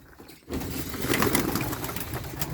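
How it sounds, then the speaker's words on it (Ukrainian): Pigeons feeding in a loft coo and shuffle close by, with a steady low hum and scattered soft pecking and flutters, starting after a brief quiet moment. "Птиця їсть."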